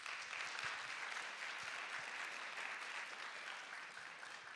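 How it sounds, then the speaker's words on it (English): A TEDxAustin audience applauds the afternoon's speakers with a dense, steady round of clapping that stays loud throughout and eases off only slightly near the end. "give them another round of applause"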